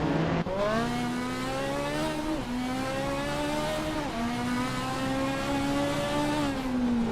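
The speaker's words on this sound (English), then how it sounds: "driving a vintage Nissan R380A2 from 1967" A vintage 1967 Nissan R380A2 race car driving, its engine droning loudly and steadily, the pitch rising under acceleration and dropping sharply at each gear change, with no talk over it.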